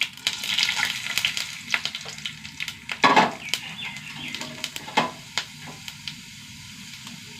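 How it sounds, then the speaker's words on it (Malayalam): Mustard seeds and urad dal frying in hot coconut oil, a steady crackling sizzle punctuated by sharp pops and spattering bursts, with one louder flurry of popping partway through; no voices. "എണ്ണ ചൂടാവട്ടെ. കടുക് ഇട്ട് കൊടുക്കാം. ഒരു ടീസ്പൂൺ ഉഴുന്ന് പരിപ്പ്,"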